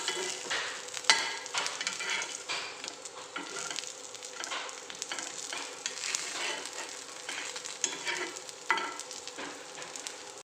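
Aloo paratha, a potato-stuffed flatbread, frying in oil on a pan, with a steady crackling sizzle throughout and occasional sharper pops and spatters, close and fairly quiet.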